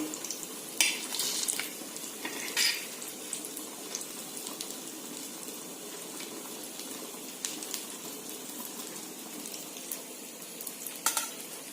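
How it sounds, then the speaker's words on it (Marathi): Bombay duck (bombil) fish frying in a pan on low heat, a steady soft sizzle throughout with a few brighter crackling bursts, close by and fairly quiet, no talking. "ते पण आपल्याला 2-3 मिनिटं आपले चांगले फ्राय करून घ्यायचे कमी गॅसवरती."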